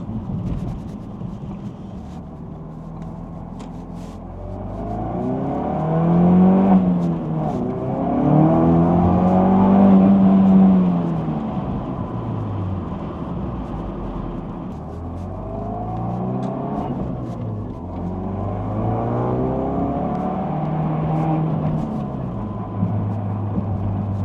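A Ford Focus RS engine hums and revs as it drives, rising and falling in pitch through gear changes, close and continuous.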